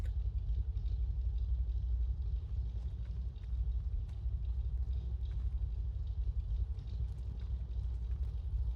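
A truck's 440 engine idles with a deep, steady rumble, constant and fairly close, no talking over it.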